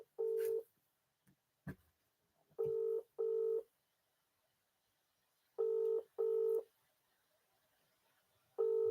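Touch-tone telephone dialing beeps sound in short paired bursts spread across the stretch, loud and close, with quiet gaps between, as a call goes unanswered; no talking.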